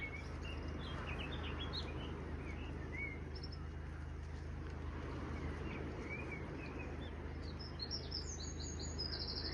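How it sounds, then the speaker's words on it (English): A wren, a blackcap and a blackbird sing around Ventnor Bay on the Isle of Wight in late April: faint, distant bursts of chirping and warbling over a constant low background rumble. "Wren, blackcap, blackbird, all singing."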